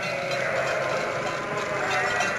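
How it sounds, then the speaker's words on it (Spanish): Freshly shorn sheep bleat in a chorus on a farm in Aragón, overlapping calls over a steady background murmur. "así salen las ovejas ya esquiladas."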